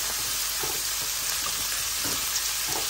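Sitaw (long beans) sizzle steadily while being sautéed in a pan for ginataang kalabasa, a dense continuous frying hiss with occasional stirring scrapes, close and even in loudness.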